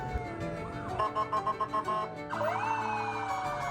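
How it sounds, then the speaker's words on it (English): A police car siren wails nearby at a Christmas parade, starting with a rapid pulsing yelp, then switching to a rising and falling wail, loud and continuous. "There are flashing lights and loud sirens"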